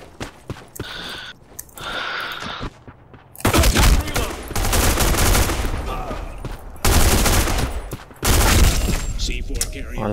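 Gunfire in the first-person shooter Black Squad: bursts of rapid automatic fire and sharp shots in several loud stretches, with a voice and breathy sounds between them.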